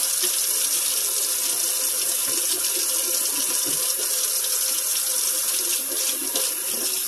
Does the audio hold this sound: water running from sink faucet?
yes